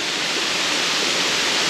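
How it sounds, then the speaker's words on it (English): A waterfall roars in a loud, constant rush of falling water, with no other sounds breaking through. "this is probably one of the most beautiful waterfalls I've seen in a while"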